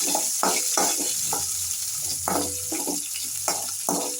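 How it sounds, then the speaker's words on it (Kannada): Green chillies and curry leaves frying in oil in a pan for palak pappu, a steady close sizzle broken by several scraping stirs of a spatula at irregular intervals, with no talking. "ಇವಾಗಿದು ಫ್ರೈ ಆಗ್ತಾ ಇದೆ"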